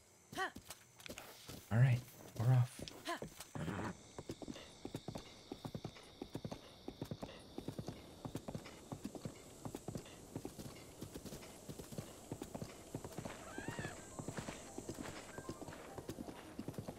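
Horse hooves clip-clopping in a steady walking rhythm, with a couple of louder neighs early on, continuing under ongoing talk.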